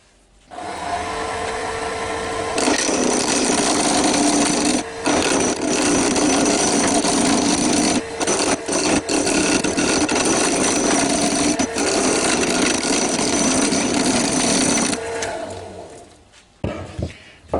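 A wood lathe spinning a blank while a turning tool faces off the end and cuts a tenon, a loud, continuous grinding roar close by with a few brief dips before it winds down.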